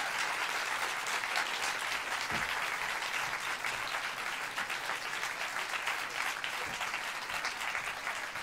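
Audience applause at a song slam on a summer theatre festival stage, steady dense clapping filling the whole stretch at an even level with no break.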